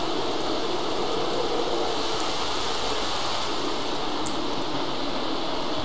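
Steady rain hisses as a constant broadband wash in The Sims 3, loud and unbroken, with a brief faint high chime near the end.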